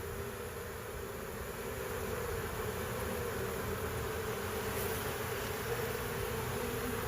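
A fall swarm of honey bees being scooped into a hive gives off a steady, dense buzz from many insects close by, continuous and even throughout.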